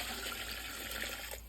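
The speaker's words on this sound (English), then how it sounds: "Then we're going to add some water." Water runs steadily from a tap into a pot for vegetable beef soup, a brief continuous close rush of liquid filling the vessel, heard alone.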